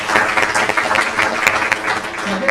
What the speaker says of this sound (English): we'll have a cheer for that lady